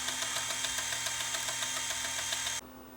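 A Sony CCD-TR23 8mm camcorder rewinds its tape with a steady, high-pitched mechanical whir and faint rhythmic ticking, running evenly for a few seconds before cutting off abruptly into a quiet hum.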